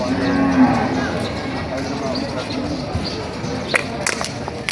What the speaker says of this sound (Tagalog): Ang malaki-laki kalabaw.